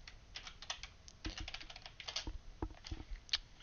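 Quick, uneven clatter of typing on a computer keyboard, with bursts of keystrokes and brief pauses, close and moderately loud with no talking.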